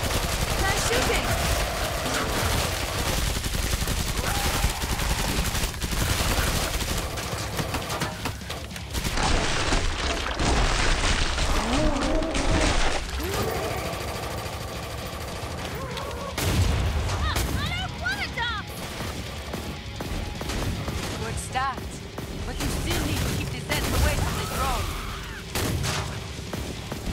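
Dense bursts of gunfire and booms fill the Killing Floor 2 fight, loud and continuous, with players shouting and talking over the shooting.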